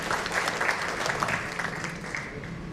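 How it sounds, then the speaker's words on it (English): A conference audience in Mumbai claps for a team, a steady, moderately loud round of applause from many hands with a few sharper individual claps standing out, no talk over it. "we should give the big clap for our team"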